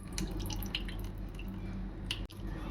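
Faint drips and small splashes of salt water trickling off a lemon and green chilli pickle, with a soft squelch and a low background hum.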